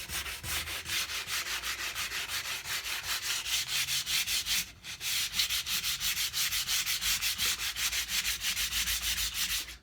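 Wood for a cigar box guitar is sanded by hand in fast, rhythmic back-and-forth rasping strokes, close and steady, with one short pause midway.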